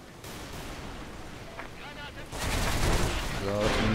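Sniper rifle shots ring out in the Special Force 2 video game. A quieter stretch gives way to a loud, sharp burst of gunfire that continues to the end.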